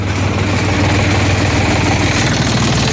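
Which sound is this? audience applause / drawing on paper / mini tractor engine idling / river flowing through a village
mini tractor engine idling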